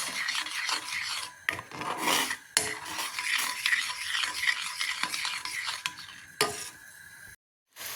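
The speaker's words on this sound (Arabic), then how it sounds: "ومن بعد ما درناه في البوطه غادي نبقاو نحركو حتى يعقد لنا هاد الخليط." A spoon scrapes and rasps around a pot while stirring a thickening coffee and Nescafé face mask mixture, in close, repeated strokes with brief pauses and a short silence near the end.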